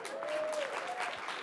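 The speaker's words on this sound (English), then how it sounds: "Robin Baum, please, a little applause for Robin Baum," Applause from the audience at the Oscars acceptance speech, a steady, dense wash of clapping that holds for the whole moment, with a faint held tone running underneath.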